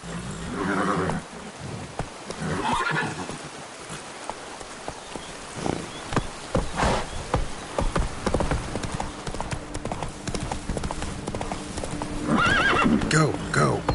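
A horse in The Witcher 3 gallops with rapid hoofbeats and lets out loud neighs, close and prominent over a faint patter of rain, with a voice speaking briefly in between.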